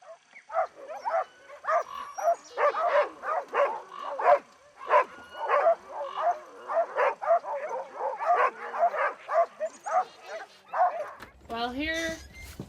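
A team of sled dogs in Alaska barks in rapid, overlapping bursts with yips and whimpers mixed in. The noise is close and keeps going, with a drawn-out, whiny cry near the end.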